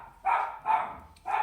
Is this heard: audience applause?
no